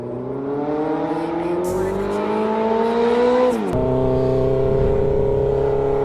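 A Suzuki GSX-R 600cc motorcycle engine revs loud and close, its tone climbing steadily, then dropping sharply and settling at a high idle.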